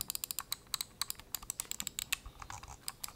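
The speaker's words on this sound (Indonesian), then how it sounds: "Feel clicky setiap tombolnya itu juga satisfying banget ya." Rapid, crisp clicks of a Noir M1 modular computer mouse button, close up, in an uneven stream of quick taps with brief pauses between bursts.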